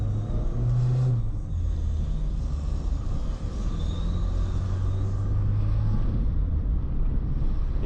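A Renault Super 5 TL with a 1.4 engine, running cold and driving, gives a continuous loud low drone and rumble with a slight rise in pitch, heard from inside the car.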